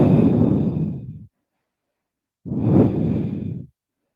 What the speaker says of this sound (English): Just a really nice big breath in and out.